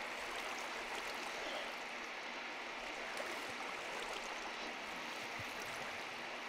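Water flows steadily in a Minecraft cave, a constant rushing stream sound that stays even and unbroken throughout, moderately quiet and alone.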